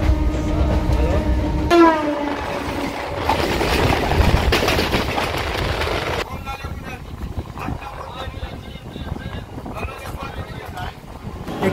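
A local train departs and runs along the line with a loud, continuous rumble and clatter of wheels and carriages, a horn-like tone sounding early on, and voices faintly audible over the running noise.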